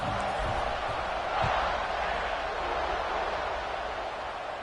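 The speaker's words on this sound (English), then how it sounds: "this crowd is feeling themselves after that last drive" A stadium crowd in a Georgia vs Texas A&M college football video game roars steadily at kickoff, a dense continuous wash of cheering with a slight swell partway through.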